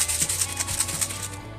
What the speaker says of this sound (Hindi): इसको इतना शेक करना है कि ये जो चीनी की आवाज़ है ये आना बंद हो जाए